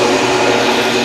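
A bagged aftermarket air intake filter for a Chevy Cobalt SS pulling 300 CFM on a flow bench, a steady loud roaring rush of airflow with no talk.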